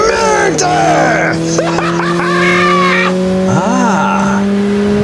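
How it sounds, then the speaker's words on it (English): City traffic sound effect for a Gotham City scene, with loud, close car tones, skidding tires and squeals sweeping over a steady engine hum, and a voice speaking over it. "The traffic this time of day is just murder!"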